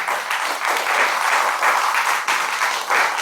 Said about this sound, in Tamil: ஒரு கைத்தட்டில் பலமாக கொடுங்க பார்க்கலாம்